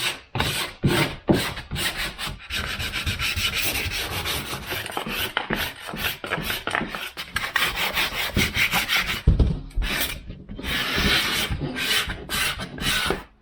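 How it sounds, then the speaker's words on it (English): Drywall edges being sanded by hand with 240 grit sandpaper to form a bevel: steady close rasping strokes, broadband and rhythmic, with short pauses and a few sharper scrapes, no talking. "This is the 240 grit sandpaper."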